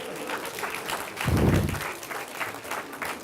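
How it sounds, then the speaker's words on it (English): A short burst of audience applause breaks out at a stage magic show after a correct number prediction, rising suddenly and fading within about a second against a quiet room. "that was applause for me"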